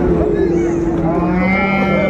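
A six-month-old dark-coated Sahiwal bull calf moos at a cattle market in Dinajpur, giving one long, loud, close bellow with a steady tone over the busy murmur of the market.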